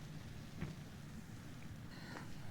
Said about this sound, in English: Well, it's absolutely lashing out there